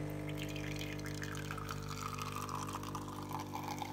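A De'Longhi La Specialista Maestro espresso machine pours a shot, a steady close trickle of liquid over a constant low pump hum, with no one speaking.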